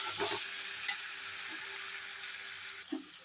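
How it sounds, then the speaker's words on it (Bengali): Chicken in curd sautéing in a pan on a very low gas flame: a faint, steady soft sizzle with a couple of light stirring clinks, quiet and close. "এটা কিন্তু এখানে আমি কষতে দিয়ে দিয়েছি, গ্যাস কিন্তু একেবারে সিমে করে আছে"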